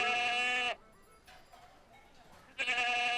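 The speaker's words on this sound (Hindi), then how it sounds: "किसकी बकरी है?" A goat bleats twice, loud and close, each cry a wavering nasal call with a quieter gap of faint background noise between them.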